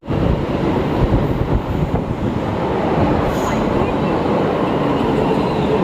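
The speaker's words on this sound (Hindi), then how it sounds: "अभी हम हैं विश्वविद्यालय मेट्रो स्टेशन पे" A Delhi Metro train rumbles steadily at Vishwavidyalaya station, with a loud, continuous rolling roar. Voices sound faintly in the background.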